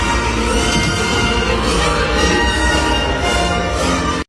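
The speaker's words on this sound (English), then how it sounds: "the crowd erupted so loud it practically shook the walls" A packed Miami concert crowd roars, a loud, dense wall of cheering and shouting that holds steady for a few seconds before cutting off abruptly.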